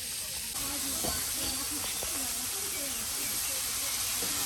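Rohu fish frying in hot oil, a continuous bright sizzle and hiss with occasional pops, while voices talk over it.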